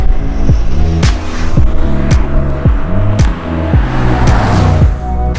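Mercedes-AMG C63 S engine with 510 hp and 700 Nm of torque, driven in Sport Plus mode, loud and close, revving up repeatedly through quick gear changes, each rising pitch cut off sharply before the next pull.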